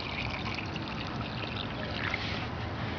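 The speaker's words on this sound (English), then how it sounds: "Then you're just going to fill this with water all the way up." Water poured into a slow-drip irrigation reservoir set beside a tomato plant in a garden, a steady close trickling and splashing that keeps up without a break and with no talk.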